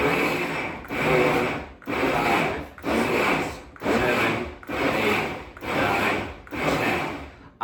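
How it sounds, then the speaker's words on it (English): A blender pulses salsa ingredients in about seven evenly spaced, close, loud whirring bursts, each lasting under a second with brief gaps between them, and no one talks. "you're gonna use the pulse setting, and you're gonna pulse about 10 to 15 times"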